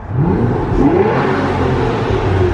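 An Aston Martin Virage's exhaust rises in a loud revving sweep under an overpass, the engine note climbing then holding as it echoes off the concrete, close and dominant with no speech.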